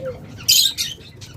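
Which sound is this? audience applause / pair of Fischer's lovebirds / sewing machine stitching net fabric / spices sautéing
pair of Fischer's lovebirds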